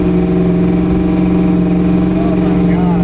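A cammed 1988 Ford Mustang Fox-body V8 idling, a loud, close, lumpy rumble with a steady uneven throb throughout, a voice faintly under it.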